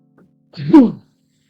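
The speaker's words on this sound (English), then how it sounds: "I am sneezing." One short, close sneeze in an otherwise quiet room, with a tiny sound just before it.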